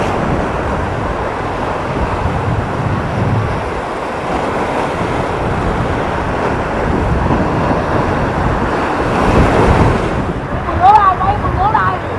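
Strong wind and ocean waves roar at sea around a fishing boat off Phan Ri Cua port, a loud continuous rushing with gusting buffeting, near and overwhelming, and a voice briefly audible near the end.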